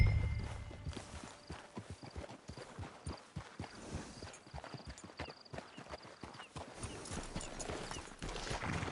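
Horse hooves from Red Dead Redemption 2 clip-clop in a steady walking rhythm, close by and moderately loud, with no talking.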